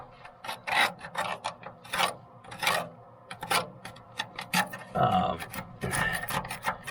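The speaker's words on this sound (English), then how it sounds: "I have to chisel this all back and see how bad it is and get right into the root weld here." Hand chisel scraping and chipping flaking rust off the steel bow stem and root weld of a boat, a steady series of close, rasping strokes with short pauses between them and no talking.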